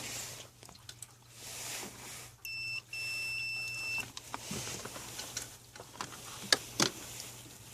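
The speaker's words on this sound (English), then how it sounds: "Now we can check for continuity, just to make sure everything is snug as a bug." A multimeter gives a continuity beep while brake light wiring on a Mercedes is tested, one clear steady electronic tone lasting about a second and a half, with quiet handling noises and faint clicks around it and no talking.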